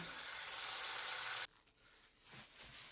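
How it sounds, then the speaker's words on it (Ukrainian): Potatoes sizzle steadily in a hot frying pan for a second and a half, then the hiss stops, followed by soft scraping and clatter. "Ось так я обжарюю е, картопельку з двох сторін"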